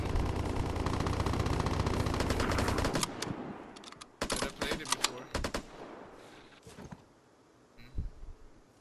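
Video game gunfire crackles in rapid automatic bursts, a dense loud stream for about three seconds, then choppier sporadic volleys with gaps, and a last isolated shot near the end.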